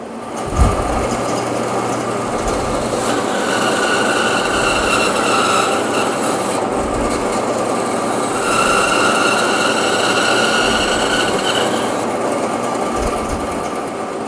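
A tuned bandsaw cuts through 3-inch maple with a steady, loud mechanical drone and high whine that runs unbroken from start to finish, the pitch easing slightly midway.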